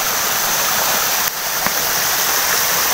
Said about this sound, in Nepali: त्यो तपाईँहरूलाई सानो झरना देखाउन चाहन्छु म